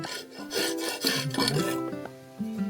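Hand file rasping over metal edges to smooth them, heard as close, scratchy back-and-forth strokes over steady background music.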